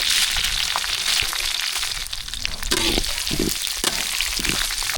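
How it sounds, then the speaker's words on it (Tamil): Tempering of mustard seeds, curry leaves and dried red chillies sizzles and crackles loudly in hot oil, with a steady broadband hiss and occasional sharp pops and stirring clatters throughout. "வரமிளகாய் நல்லா வதக்கிட்டு அது கூட ஜீரகம் சேர்த்துக்கலாம்"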